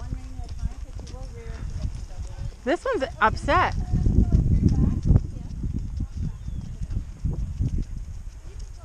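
A restless horse, tossing its head, shifts and moves nearby with irregular hoof thuds and rustling, and a sharp whinny rises partway through while people speak over it.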